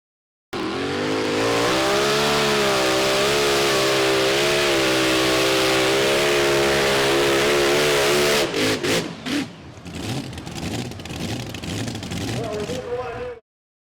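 Mini rod pulling tractor at a Pro Pulling League event, its engine screaming at a sustained high rev for about eight seconds, then breaking into stuttering bursts and falling back to a rougher, lower drone, loud and near.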